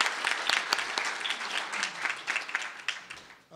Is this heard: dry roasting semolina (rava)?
no